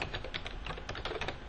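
Rapid keystrokes on a computer keyboard while entering vendor type codes in accounting software, a dense run of close clicks with no talking.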